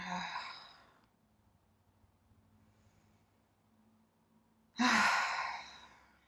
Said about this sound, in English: Feel free to take some exhalations through the mouth.